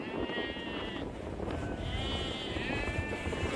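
Many sheep bleat together during a nomadic herders' seasonal migration in Xinjiang, with overlapping wavering calls rising over a dense, continuous bed of flock noise close at hand.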